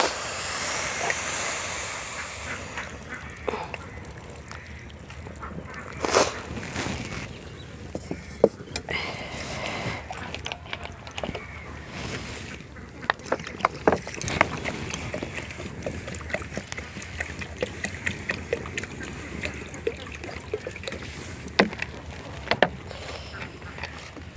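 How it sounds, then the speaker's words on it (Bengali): Mung dal lentils being rinsed in water, with sloshing, swishing and splashing at close range, irregular bursts of handling noise and clinks throughout, and no talking heard. "দুই তিনবার করে ডালটা ধুয়ে নেব।"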